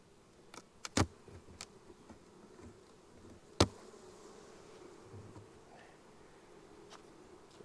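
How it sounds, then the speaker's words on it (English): Honey bees drone continuously in a hive, a low steady hum broken by a few sharp clicks and knocks. "Holy cow, there's a lot of bees in this one."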